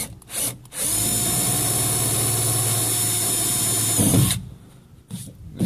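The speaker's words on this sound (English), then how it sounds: "We're going to drill another one out." A power drill whines steadily for several seconds at close range, drilling into a cracked RV waste-water holding tank and bogging slightly as it bites, then stops, with brief rattles before and after.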